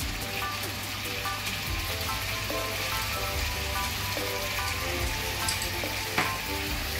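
Sauce for Jamaican steamed butter fish sizzles steadily in a hot pan, a continuous crackling hiss with faint stirring clinks underneath.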